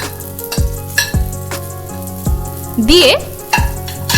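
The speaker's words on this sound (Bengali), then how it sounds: "পেঁয়াজটাকে এবার হালকা করে আমাদের সটে করে নিতে হবে। এতে দিয়ে দিতে হবে রসুন কুচি, আদা কুচি" Onion with chopped garlic and ginger sautéing in a pan, a steady loud sizzle broken by repeated stirring scrapes and a few clinks; a voice speaks briefly over it.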